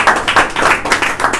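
Hands clap in praise at a family prayer gathering, a quick loud run of about six rhythmic claps from several people in a room.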